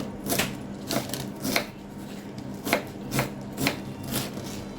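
Steady knife chops through red spinach stems on a board, about eight crisp strikes in an even rhythm, close and clear with no talking.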